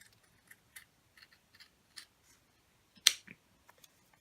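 Sparse, quiet snips of scissors cutting, a series of short crisp clicks with one sharper, louder snip near the end.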